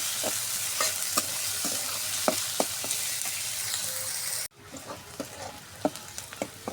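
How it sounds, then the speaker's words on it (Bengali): Onion fries in the oil left from frying potatoes, a continuous hiss broken by regular scrapes and taps of the spatula, which quiet down abruptly partway through. "আমি পেঁয়াজটা সুন্দর করে ভাজে নেব।"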